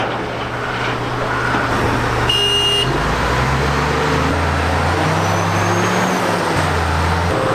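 A Caterpillar 988H wheel loader working in a quarry, its heavy diesel engine droning steadily with shifting low tones throughout, joined by a brief high tonal squeal partway through, with no voices.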